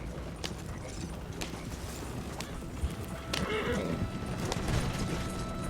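A horse gallops in Red Dead Redemption 2, its steady hoofbeats drumming close and continuously, with a brief whinny-like cry and outdoor game ambience around it.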